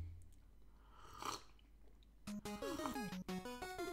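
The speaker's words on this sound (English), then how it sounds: "you're just going to have to listen to me slurping here" Wet slurping and chewing from someone eating close to the mic, filling the first two seconds before bright chiptune music from a Mega Man Maker level takes over.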